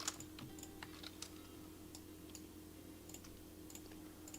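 The delete key is pressed on a computer keyboard while editing a 3D level design scene: faint, scattered key clicks tap irregularly over a low, steady room hum.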